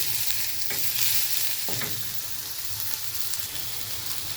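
Chopped onion and whole bay leaves sizzle steadily in hot oil, a close, continuous crackling frying hiss with a couple of brief stirring scrapes, no voices.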